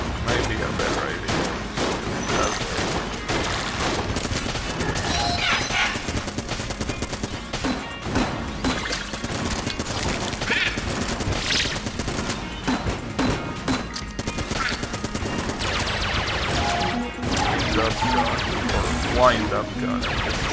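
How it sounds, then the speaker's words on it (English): Constant rapid gunfire from a wind-up gun in the video game Exit the Gungeon, dense and loud for twenty seconds, with game music and effects under it and scattered heavier thumps. "Wind up gun."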